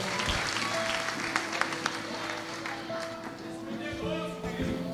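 A church congregation applauding during an anniversary service, a fairly loud crowd clapping with organ or keyboard chords sustained underneath and some voices mixed in.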